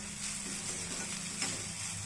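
Cooked jeera rice stirred in a hot pan with salt, a faint continuous sizzle with soft scraping from the stirring, quiet and steady throughout.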